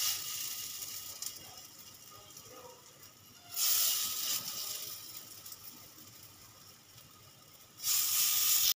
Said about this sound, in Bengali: আমি এরকমভাবে বড়াগুলো একে একে সব ভেজে তুলে নেব।